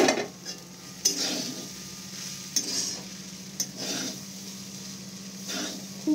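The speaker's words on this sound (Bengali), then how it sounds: "দেখো আমি জাস্ট মিশিয়ে নিচ্ছি ভালো করে।" Chira pulao with fried peanuts being gently stirred in a pan, soft scraping strokes recurring about once a second with light clinks of the spatula over a faint sizzle and a low steady hum.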